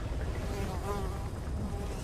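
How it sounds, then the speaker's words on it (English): Flies buzz around a character's head in Metal Gear Solid 5, a faint, wavering insect drone close by with a quiet low rumble under it. "Flies buzzing around your head is never a good sign."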